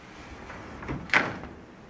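A wardrobe door in a Punta Cana resort hotel suite opens with a brief, quiet click and swish near the middle, close by in a quiet room, with no talking.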